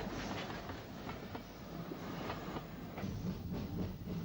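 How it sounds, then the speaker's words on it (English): Isle of Wight steam train, engine No. 35 Freshwater, passing at speed through Smallbrook Junction, with a continuous rushing roar and a rhythmic clickety-clack of wheels over rail joints, somewhat distant. "Number 35, Freshwater, picks up the staff at speed at Smallbrook Junction."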